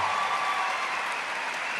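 Brief burst of audience applause at a church gathering, a dense, even clatter of many hands clapping at moderate loudness, heard alone for under two seconds.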